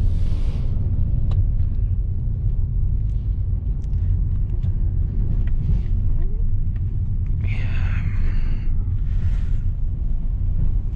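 Interior of a Mitsubishi Xpander Ultimate with a CVT driving uphill, a steady low road and engine rumble with wind noise; brief faint voices and a chime-like sound appear near the end.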